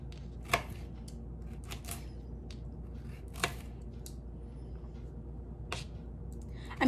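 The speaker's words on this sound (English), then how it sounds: "Okay, so back to cutting the carrots." A single carrot being cut with a knife at home, a few sparse, sharp chops on a cutting board spaced seconds apart in a quiet kitchen.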